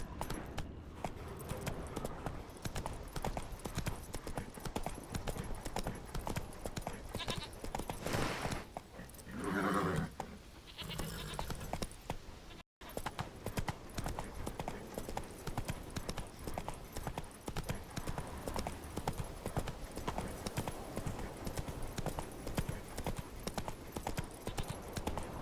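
Roach, a horse in The Witcher 3, gallops in a steady rhythmic clip-clop of hooves that runs nearly throughout, briefly easing off midway before resuming.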